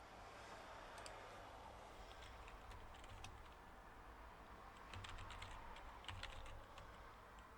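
Steady typing on a computer keyboard, a faint stream of light key clicks with small bursts of faster keystrokes, heard alone over low background hum.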